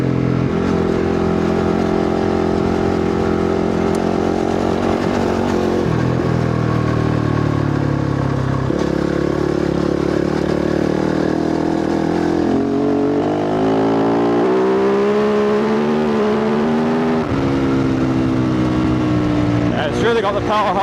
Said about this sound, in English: This trail is quite good fun at high speed on the Can-Am.